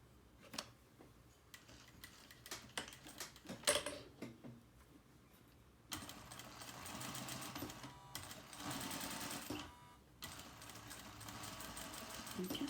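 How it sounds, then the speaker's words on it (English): Sewing machine stitching a sleeve placket, with a short backstitch, first slow ticking stitches, then longer bursts of faster, steady motor whirring, fairly quiet and close, broken by brief pauses. "I'm going to sew 1/16 over the seam allowance, over the stitch. Don't forget to backstitch."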